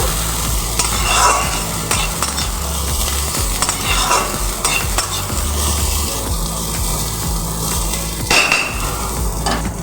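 Slit green chillies stir-fried with papaya, potato and chopped onion for papaya-potato chokka, a steady loud sizzle with repeated scraping stirs of a spatula against the pan, no talking.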